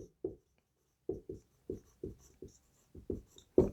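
A pen or chalk writes on a board in short, close scratchy strokes that come in quick irregular bursts with pauses between, and no voices.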